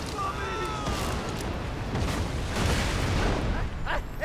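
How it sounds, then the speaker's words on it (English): Grenade explosion in Borderlands 2, a heavy booming blast with a rumbling tail, moderately loud in the game mix, with a voice talking over it. "Grenade! Frag out!"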